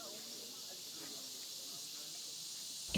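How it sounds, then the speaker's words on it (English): Crickets at a quiet lake in Coron keep up a steady high, hissing chirr, faint and continuous, with a voice talking softly underneath. "It is quiet here, but perhaps for the chatter of the lake's resident crickets"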